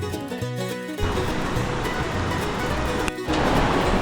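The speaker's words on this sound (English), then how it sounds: "the river's just raging" A raging river rushes loudly at an Idaho gold prospecting campsite, a dense steady roar of churning water with a brief dip before surging on, no voices.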